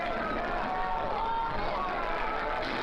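A big, lively crowd at a wrestling match roars in a steady, loud wash of cheering and babble throughout.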